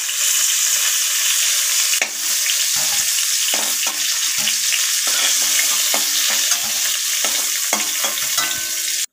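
Cauliflower florets fry in hot oil in a wok with a loud, continuous sizzle, broken by intermittent scraping and stirring clanks throughout.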